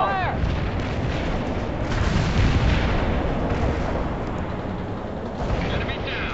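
Mortar and artillery fire in the World in Conflict strategy game keeps up a continuous loud barrage of booming impacts and rumbling detonations. Battlefield voices speak beneath the dense rolling blasts.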